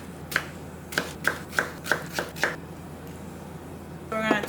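A knife cuts peeled cucumbers in half on a cutting board with about seven crisp, evenly spaced chops up close, then a brief rustle at the end. Nobody talks.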